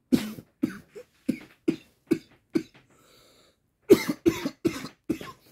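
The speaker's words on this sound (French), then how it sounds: "ça fait plusieurs fois que je tousse" A person coughing repeatedly, a string of sharp dry coughs at close range, pausing briefly before another burst of several more.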